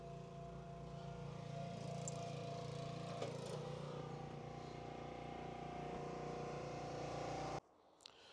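Inside a tractor cab in a wood yard, the engine drones at a steady, even idle-to-work pitch with a strong tonal hum, running continuously until it cuts off abruptly near the end.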